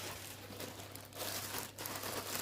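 Plastic bags crinkle and rustle as they are handled in a home, with soft irregular crackling bursts at fairly low volume and no talking.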